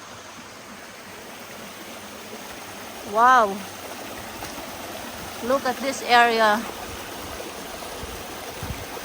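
A flowing river with clean water over rock formations at a farm resort, a soft continuous babble in the background while a person talks excitedly over it.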